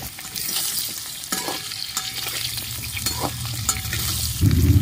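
Potatoes and pointed gourd sizzle in a hot pan while a utensil scrapes and stirs them, with a few clacks and the frying growing louder at the end.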